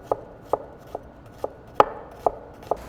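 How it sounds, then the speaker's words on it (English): A sharp knife slicing an onion thinly on a cutting board, seven crisp separate cuts at an even, unhurried pace, close and clear with no talking. "I just try to slice them as thin as I possibly can."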